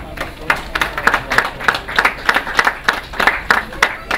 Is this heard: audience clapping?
yes